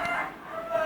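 A red chicken clucks once or twice nearby, a short, fairly quiet call heard alone.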